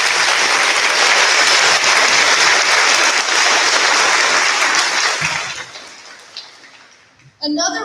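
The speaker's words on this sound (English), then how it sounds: "Let's give our Global Studies and World Languages teachers a round of applause" A crowd applauds loudly and steadily for several seconds at a graduation cord ceremony, then the clapping thins and fades out before a voice begins speaking.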